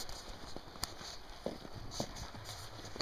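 A big horse on a ranch in Summerland, a few soft, scattered hoof clops close by against a steady background hiss, with no talking.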